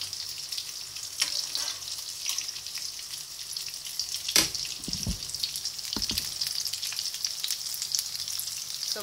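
Steady oil sizzling and crackling as paneer fries in a pan, with a few sharp clinks and a faint splash partway through.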